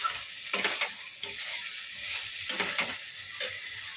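Soybean chunks frying with a little onion in a hot pan give a steady close sizzle, broken by scraping stirs of a spatula every second or so; no voices.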